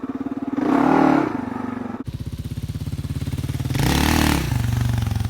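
A Kawasaki KLR650 motorcycle engine idles with a rapid chugging pulse, then twice surges as the throttle is opened for a wheelie, each rev held briefly before dropping back to idle.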